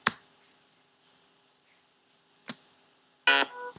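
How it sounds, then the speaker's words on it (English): Sonic Pi live-coding software plays a short electronic beep when a key is released; faint clicks come first, then a brief bright tonal beep near the end, alone without speech. "If I release, it's gonna make that beep sound."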